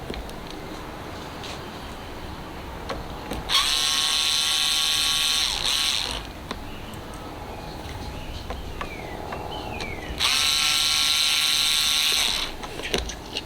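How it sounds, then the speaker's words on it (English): Screws being backed out of an Apollo Phantom electric scooter deck with a powered driver, heard as two separate bursts of buzzing, ratcheting whir a few seconds long, with quieter handling and clicks between them. "Just taking out all the screws."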